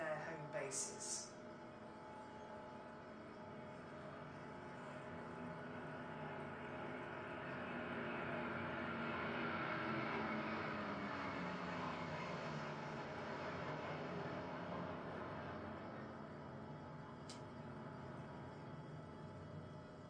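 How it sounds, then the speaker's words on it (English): Military aircraft flypast of a Poseidon, Typhoons and an RAF Rivet Joint over the palace at Trooping the Colour, a faint distant jet roar swelling and fading steadily, with no talk. "Flying behind the Poseidon and Typhoons is the Rivet joint from RAF Waddington with another 2 Typhoons from RAF Coningsby"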